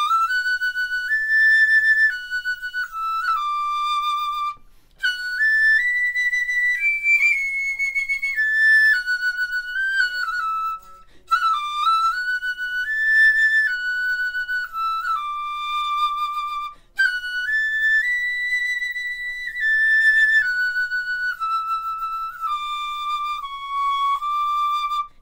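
Penny whistle played in a flute shop, a clear bright melody of sustained and stepping notes with short pauses between phrases, close and loud with no talking.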